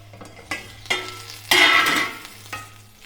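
Moringa leaf thoran being stirred in a frying pan: a few scraping stir strokes, one louder burst in the middle, over a soft steady sizzle, close and with no talking.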